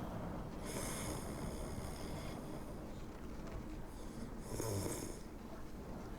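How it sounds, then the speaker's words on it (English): Someone snoring during a tabletop role-playing session, faint and distant under a steady background hiss, with two drawn-out breathy snores spaced a few seconds apart. "Somebody did fall asleep. Listen to the snoring."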